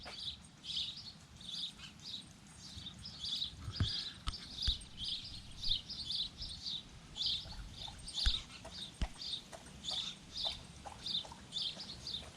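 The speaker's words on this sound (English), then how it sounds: "Mom or dad, however sparrows do it, are feeding the young right now." Rapid, high-pitched chirping from young sparrows being fed in a birdhouse repeats continuously, fairly close, over faint background rustling and a few soft knocks.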